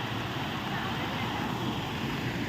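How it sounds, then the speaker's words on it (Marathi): Stream water rushes steadily through grassy hill country near Parle village, Mahad, a dense continuous hiss and burble that stays close and loud without pause. "पाण्याचा आवाज येतो बघा"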